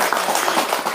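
Applause from a small group: a dense, steady patter of clapping hands, close and fairly loud, filling a single second with no voices.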